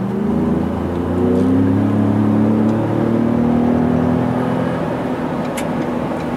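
A 2017 Ford F-150 Raptor's turbo engine drones from inside the cab as the truck accelerates, its deep hum climbing slowly and steadily in pitch, loud and continuous with no talking.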